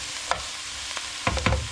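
Meat browning in a one-pot pasta dish gives a soft, steady sizzle, broken by a few sharp scrapes and clinks of stirring, the last two close together near the end.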